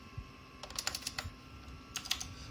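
Keys clack crisply on a clicky mechanical keyboard, either an IBM Model M or one with Cherry MX Blue switches, in two quick bursts of several sharp strokes separated by a short pause, close up and alone.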